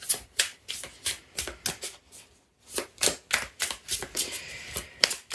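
Tarot cards being shuffled by hand in a quiet room: a steady run of crisp, riffling card bursts, roughly a dozen short flurries with a brief pause midway, close and clear with no talking.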